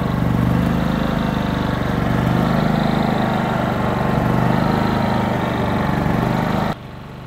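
A Cummins Onan P4500i inverter generator runs with a steady, even engine drone close by and no talk, then its sound drops abruptly to a quieter level near the end.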